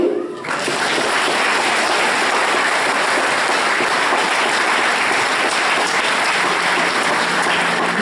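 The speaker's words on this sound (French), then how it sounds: "Allez, on peut s'applaudir." An audience at a Christmas Eve evening gathering in Cléguer breaks into sustained, dense applause that fills the room evenly from start to finish.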